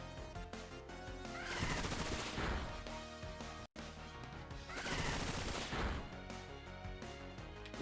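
Bullet Seed attack from Pokemon Scarlet/Violet, a rapid volley of punchy impacts in two dense bursts under game music, loud and close, with no voices.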